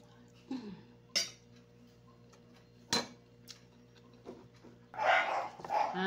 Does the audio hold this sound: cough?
no